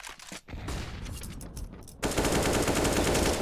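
Rapid automatic gunfire rings out during a professional competitive shooter match on the Train map. Dense bursts of shots crackle continuously and grow heavier partway through, with no voices over them.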